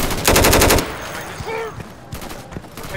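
Video game gunfire from an online shooter match, a loud rapid automatic burst at the start followed by scattered single shots and distant game noises.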